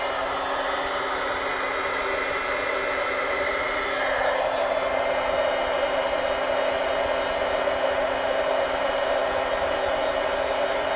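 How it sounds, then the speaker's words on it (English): An embossing heat tool blows with a steady, continuous whirring hiss for the whole stretch, close and moderately loud, with a slight shift in tone partway through. "And then my heat tool."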